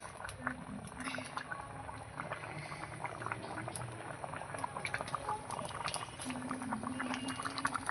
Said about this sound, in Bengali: এই দেখুন কি সুন্দর ফুটছে